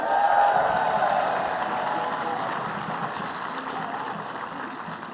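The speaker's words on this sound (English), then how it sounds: "Round of applause for them too." A crowd at a university recognition ceremony applauds with a soft, sustained wash of clapping that slowly fades, with a murmur of voices underneath.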